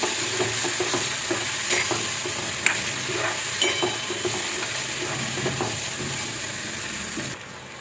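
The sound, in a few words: sautéing black peas in masala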